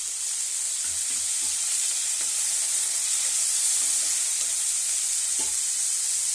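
Carrots, beans, curry leaves and peas fry in a pan with a steady close sizzle, broken by a few soft stirring knocks and scrapes throughout.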